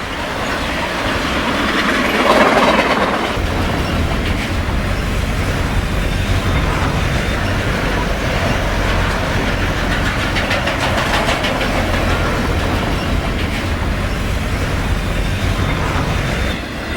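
A Santa Fe eastbound hotshot freight, train 991, sweeps past near Harlem Avenue with a loud, continuous roar of rolling cars, rumbling low engine drone and rhythmic clickety-clack of wheels, heard close and sustained with no talk.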